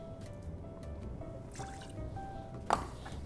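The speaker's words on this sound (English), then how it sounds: "Next up, 30 mils or 1 ounce of Averna, which is a delicious Amaro." A 30 ml measure of Averna amaro is poured for a Black Manhattan cocktail, a quiet trickle and drip of liquid followed by a small clink near the end. No one speaks.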